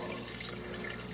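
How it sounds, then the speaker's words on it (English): Water draining through an indoor aquaponics setup with grow tubs and an adjustable water height: a continuous soft trickle and gurgle, faint and steady, with no voices. "Everything drains through here."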